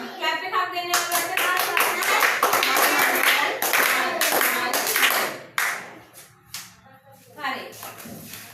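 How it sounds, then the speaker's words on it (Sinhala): Schoolchildren in a classroom give a burst of applause for their classmates, several seconds of lively clapping that fades, then resumes briefly, with a teacher's voice around it. "ක්ලැප් එකක් දෙන්න යාළුවන්ට"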